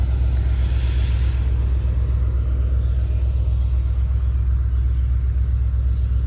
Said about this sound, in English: he gets a train coming by at the same freaking time